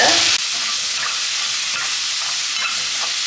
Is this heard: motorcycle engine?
no